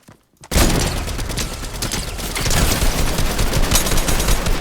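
Dense, loud automatic gunfire erupts after a brief quiet moment in a shooter video game, continuous bursts and booms filling the rest of the clip with no talking.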